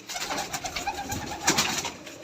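Bango pigeons, a Turkish breed with black wings and tails, coo and flutter in a loft, a busy layer of soft calls and rustling throughout with brief louder bursts.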